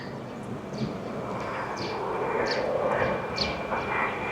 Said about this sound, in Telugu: సో అటు సైడ్ ఫ్లైట్స్ టేకాఫ్ అవుతా ఉంది.